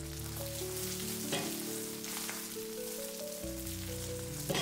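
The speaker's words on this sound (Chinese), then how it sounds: "油熱之後把腐竹雞蛋液直接倒在鍋中" Tofu skin and beaten egg sizzle in hot oil in a wok, a steady crackling hiss running underneath louder background music.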